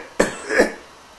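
A single cough in two quick throaty bursts, close and fairly loud, heard on its own with no talking.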